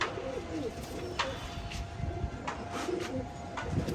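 Low, repeated cooing from several male flying pigeons kept for tournament flying, a steady soft warble running through the loft with sharp clicks and faint background noise.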